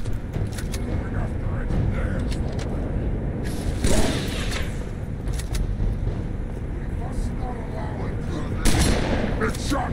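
Shotgun blasts in Halo 3 on the Crow's Nest level at Legendary difficulty, a few sharp booming shots at about 4 and 9 seconds over constant battle noise, engine rumble and scattered gunfire.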